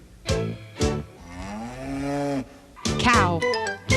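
A cow moos loudly up close. One long, drawn-out low call sits between shorter lowing sounds at the start and end.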